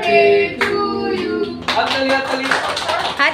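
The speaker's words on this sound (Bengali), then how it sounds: "হাততালি।" Hands clap at a home birthday party just after the birthday song, with the clapping rising in the second half over singing and chatty voices nearby.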